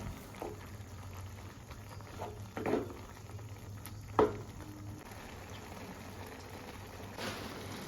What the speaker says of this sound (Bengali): এখন গ্যাসের ওভেন লো টু মিডিয়ামে রেখে ম্যাগিগুলোকে সেদ্ধ করে নেবো